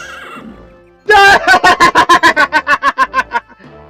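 A horse in The Elder Scrolls Daggerfall video game lets out a loud, close whinny, a rapid series of about a dozen shrill pulses tapering off, after a brief stretch of quieter talk.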